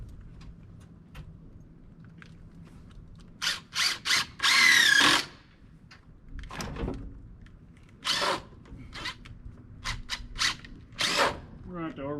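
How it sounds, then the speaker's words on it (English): A power drill drives screws into a wooden joint in several short whirring bursts separated by pauses, with faint background sounds between them. "Get a couple more screws in that joint."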